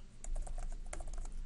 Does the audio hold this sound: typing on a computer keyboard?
yes